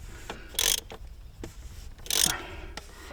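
Ratchet clicking on a bolt on a Range Rover 3.6 TDV8 engine during a service, two short bursts of rapid ratcheting close to the microphone with quieter mechanical knocks between.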